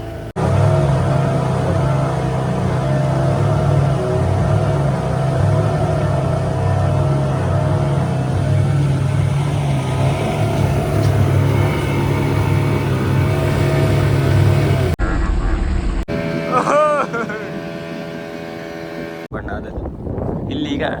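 A motorboat engine drones steadily with wind buffeting the microphone, then cuts off abruptly, followed by brief scattered sounds and voices.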